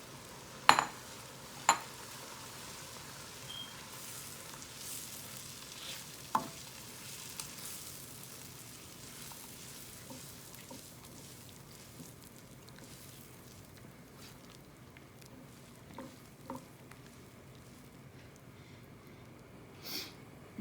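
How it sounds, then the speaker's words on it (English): Tomato puree simmering in a kadai with onion while kadai chicken is being made, a faint steady sizzle with a few sharp spatula knocks scattered across it, no talking. "Now we will let cook tomato couple of minutes until this rawness goes."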